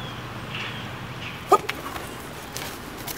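A puppy lets out one short, sharp bark at close range during an outdoor conditioning session, followed by a faint yip over steady low background noise.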